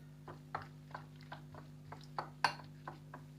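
Ketchup is stirred into a chicken-and-egg sandwich batter, a utensil tapping the bowl in soft, fairly regular clinks over a steady low electrical hum, fairly quiet and without speech.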